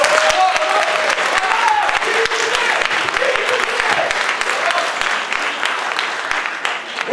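Applause fills the hall at a French-language debate championship, loud sustained clapping with a few crisp individual claps standing out and faint voices and cheering mixed underneath.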